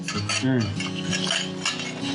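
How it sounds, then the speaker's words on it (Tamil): Metal scraping and clinking as dough with ghee is stirred in a metal bowl, continuous close-up mixing sounds with a brief tonal scrape. "இதில் முதல்ல கலந்துட்டு அப்புறம் தண்ணி போட்டு."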